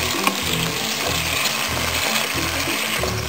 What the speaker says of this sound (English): Combine the mixture. Add the potatoes.